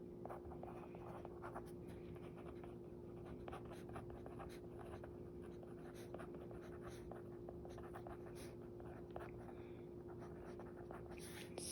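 Pen scratching across paper while drawing an economics graph, a faint, quiet, irregular scrawl of short strokes over a steady low electrical hum, with no talking.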